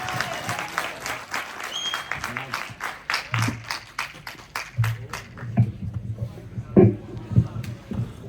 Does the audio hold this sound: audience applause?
yes